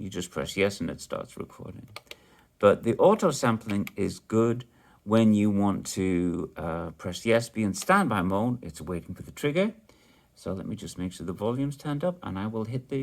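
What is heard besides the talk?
No everyday noises stand out.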